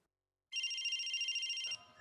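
A telephone rings in one steady electronic trill lasting just over a second, clear and fairly close in an otherwise quiet room, then cuts off into faint background noise.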